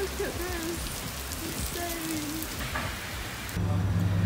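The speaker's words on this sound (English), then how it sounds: "it is pouring with rain" Steady, dense rain pours down in Cairns with a constant hiss, heavy and close, and a few faint higher tones drift through the downpour.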